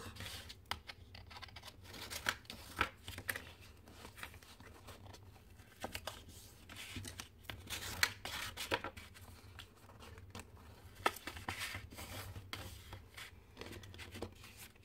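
Folds are pressed into a handmade paper card frame on all four sides: quiet, intermittent rubbing, scraping and crinkling strokes of paper being creased, close by, with no talking.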